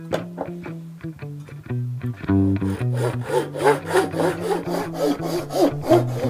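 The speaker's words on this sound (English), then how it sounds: "I'm going to use a square to keep my saw straight and a little economy pull saw to create a series of lines through here" A small economy pull saw cuts a series of lines into wood for a cigar box guitar pickup recess, guided by a square. A few slow strokes build into steady, rasping back-and-forth sawing, close and without talk.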